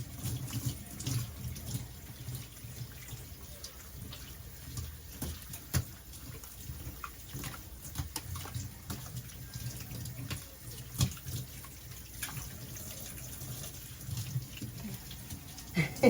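Tap water runs steadily and close while a small pet dog named Shuna is rinsed during a bath, splashing and trickling continuously with no talk.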